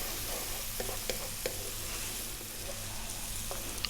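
Prawns fry with salt and pepper in a pan over medium heat, giving a soft, steady sizzle broken by light scraping and stirring clicks, fairly quiet and without voices.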